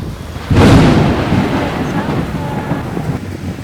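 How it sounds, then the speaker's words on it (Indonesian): A sudden loud rumble of thunder rolls in and slowly fades during a rainstorm, with rain and gusty wind noise close to the microphone. "Hujan."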